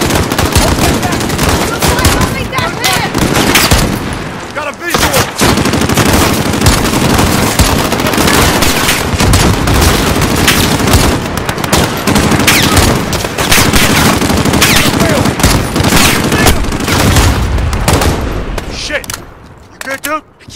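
Dense, continuous automatic gunfire from a Call of Duty: Modern Warfare firefight, loud and sustained with overlapping bursts and crackling shots that thin out near the end. Voices call out beneath the shooting.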